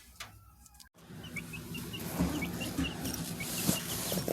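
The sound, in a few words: roosters and chickens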